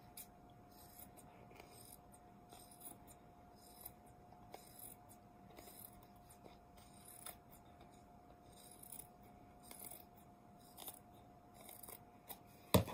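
Scissors trimming fabric and cotton batting around a round flat ornament, quiet rhythmic snips repeating steadily and close up against a faint background hum.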